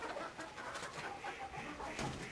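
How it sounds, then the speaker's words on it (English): Roosting chickens coo and murmur softly at night, a faint scattering of low throaty calls and rustles with no voices, quiet and close. "What chickens really do when they roost."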